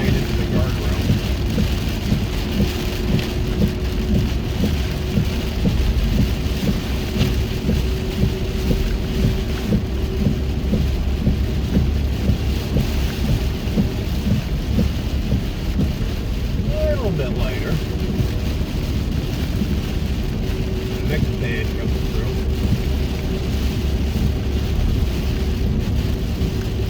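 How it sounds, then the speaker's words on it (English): Heavy rain on the road heard from inside a moving car, a loud, constant hiss and wash with low road rumble throughout, while someone talks over it. "there's always going to be people who think they're invincible in this heavy rain"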